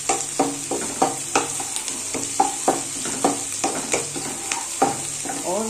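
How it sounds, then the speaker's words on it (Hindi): Onions fry in a pan until reddened, a close steady sizzle broken by regular scraping, stirring strokes about twice a second, loud and with no voices. "फ्राई करती हूँ। ऑनियन को थोड़ा लाल होने के लिए"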